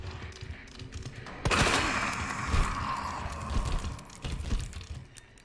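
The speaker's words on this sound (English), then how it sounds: "I love this super shooting." Claire firing at zombies in Resident Evil 2: a sharp shot breaks the quiet, followed by rapid bursts of gunfire and rattling reload clicks, loud and busy, with no talking.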